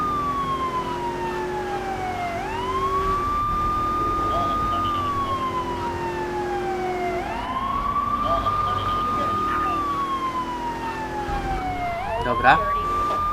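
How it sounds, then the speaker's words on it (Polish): A police car siren wails in Grand Theft Auto III, rising and falling in long repeated sweeps that hold steady and loud throughout, with engine noise underneath and a brief sharp knock near the end. "Ja sobie uruchomię syrenę, będzie szybciej."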